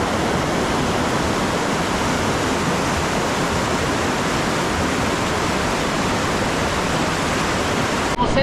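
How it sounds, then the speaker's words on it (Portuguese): Fumacinha waterfall running full after rain, a loud, steady roar of falling water that fills the whole stretch without a break. "a cachoeira tá cheia"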